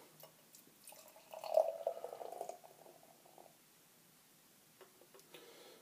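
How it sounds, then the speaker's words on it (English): Carton Brewing stout beer pours aggressively into a glass for a couple of seconds, a gurgling, fizzy splash that swells then fades, followed by faint clinks and drips. "Pretty aggressive pour there."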